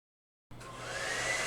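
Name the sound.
dryer drying acrylic paint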